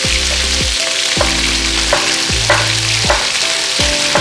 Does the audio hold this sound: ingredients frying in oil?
yes